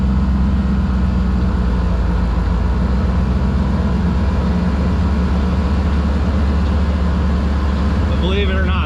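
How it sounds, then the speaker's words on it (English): A 1989 Batmobile replica drives with its canopy open, giving a loud, steady low engine rumble that is close and continuous, with a brief higher squeak near the end. "We're going to drive with the canopy open"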